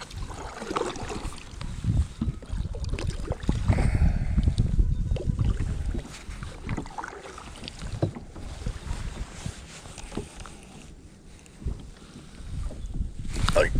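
A kayak is paddled across a windy dam, with gusting wind buffeting the microphone, water sloshing and paddle splashes up close, and brief moments of talk in between.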